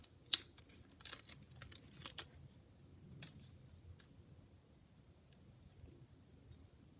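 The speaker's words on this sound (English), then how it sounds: "just take the tape off" Tape being peeled off a painted mason jar, heard as faint irregular ripping and crinkling bursts, sharper near the start and then thinning out, with no talk.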